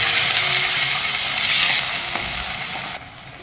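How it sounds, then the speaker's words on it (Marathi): Tomatoes sautéing with onions in a pan give a steady, close hiss and sizzle with light stirring, fading slightly near the end. "आपण आता याच्यात टोमॅटो टाकून घेऊया. त्याला पण चांगला परतून घेऊया आपण."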